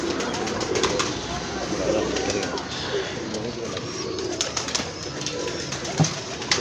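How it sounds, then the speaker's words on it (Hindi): Old-breed pigeons from a 25-year line coo continuously in soft, overlapping calls close by, with faint background voices and rustling mixed in. "ये भी मेरे पुराने कबूतर हैं, 25-26 साल पुराने कबूतर हैं ये"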